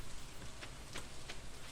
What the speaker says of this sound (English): Oh, I love that rain.